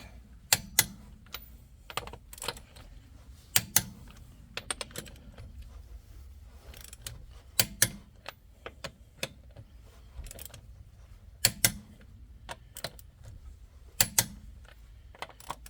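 A torque wrench set to 100 foot-pounds tightens the rear wheel lug nuts on a 2003 Cadillac CTS. Sharp, crisp metallic clicks come singly and in quick pairs at irregular intervals over a quiet background, close by and with no talking.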